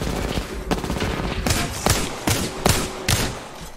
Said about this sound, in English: that baddie's standing still shooting at you